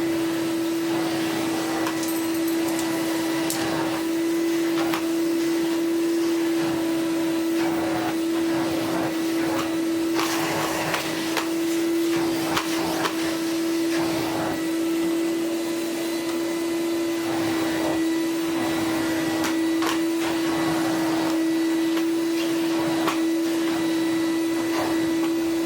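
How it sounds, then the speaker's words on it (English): A Goblin Omni 1000 vacuum cleaner runs continuously on a floor, a loud steady motor drone with a strong whine and airflow rush, with scraping and knocking bursts as the cleaner is pushed around. "Let's just vacuum the floor in case when we take it apart it never goes back together again."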